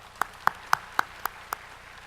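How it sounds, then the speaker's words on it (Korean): Six evenly spaced single hand claps ring out clearly in a church congregation during a Korean Protestant morning service, sharp and fairly close, each separated by a brief quiet gap. "우리 이 시간 하나님께 큰 영광 박수 한번 돌리겠습니다."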